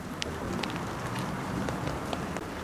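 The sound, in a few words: rain falling outdoors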